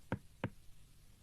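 A cartoon doctor knocks twice on a patient's back as if rapping on a door, two crisp, close taps spaced a third of a second apart with no talk over them.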